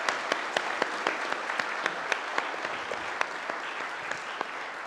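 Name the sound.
audience applause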